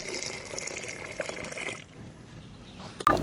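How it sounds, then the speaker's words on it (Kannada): Water trickles and splashes into a pot of dry fish curry with ground country masala and field beans, a soft pour lasting under two seconds, then near quiet before a sharp knock at the end. "ಸಾರಿಗೆ ಬೇಕಾಗಿರೋಷ್ಟು ನೀರು"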